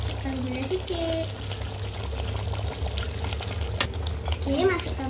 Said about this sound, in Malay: Susah sikit nak kacau.